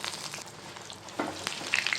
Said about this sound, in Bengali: কিনে আনা বাঁধা বাঁধা চপ সব এখানে, এবার এক একটা করে নেব আর আমি ভাজবো।